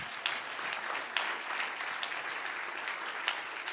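A church congregation applauding the Lord during a sermon, steady dense clapping from many hands throughout, moderately loud and evenly sustained, with a few sharper claps standing out.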